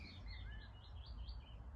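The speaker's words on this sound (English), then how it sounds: "Blackbird, of course, in the background" A blackbird sings faintly in the background on a countryside walk, its short repeated phrases rising over a low, steady outdoor rumble.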